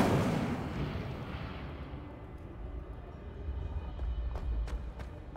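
Incendio fire spell cast in the Hogwarts video game, a loud roaring burst of flame that rumbles and slowly fades, followed by a few faint crackles.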